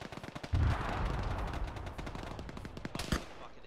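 Heavy machine gun fire in Arma during a ShackTac squad battle: a dense stream of rapid automatic bursts with a sharp louder shot near the start and another near the end, constant and fairly close.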